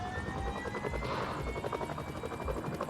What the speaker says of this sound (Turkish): Ya bu helikopter ya.